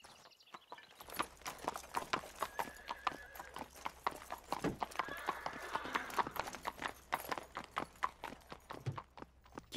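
Horse hooves clip-clop in a steady, brisk rhythm in an animated cartoon, clear and close, with a faint whinny partway through. The hoofbeats run for nearly the whole stretch after a quiet start.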